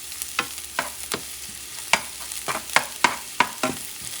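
Garlic fries in a pan for Puerto Rican ground beef with rice, with a soft sizzle beneath. A utensil stirs and scrapes across the pan in a series of sharp, irregular knocks and scrapes, close up and without talk.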